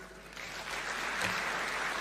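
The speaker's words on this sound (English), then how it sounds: "Let's give him a warm thank you clap." Audience applause after a speech at an African Union event, a fairly faint crowd clapping that swells and holds steady for two seconds.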